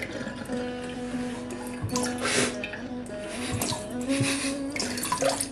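Water runs steadily from a kitchen tap in a simple Indian-style home kitchen, a continuous close splashing stream with small clinks and knocks over it.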